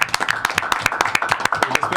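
Studio audience claps for a departing show guest, a thin scatter of distinct, irregular hand claps with sharp separate strikes rather than a full roar, fairly close and brief.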